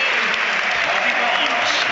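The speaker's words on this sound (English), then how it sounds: "whether they just want him to get a great round of applause from the home fans or not" Home supporters at a Newcastle United versus Liverpool football match break into steady, sustained applause for a substitution, a dense wash of clapping throughout with no clear voices on top.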